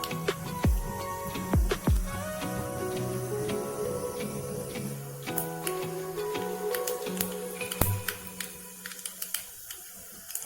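Mustard seeds and urad dal fry in hot oil for a hotel-style coconut chutney tempering, giving a continuous close hiss with scattered sharp pops and crackles and some clinking against the pan.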